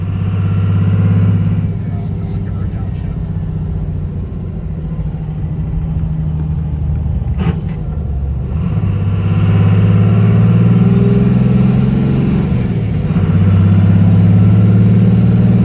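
A 24-valve Cummins diesel truck engine with a P pump runs loud and close, holding a deep steady rumble that rises and falls as the throttle is blipped.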